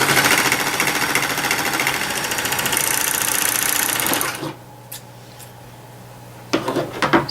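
A sewing machine stitches a seam in a mermaid-tail blanket, a rapid, rhythmic mechanical clatter running close and loud for about four seconds before stopping, followed by quieter handling noises.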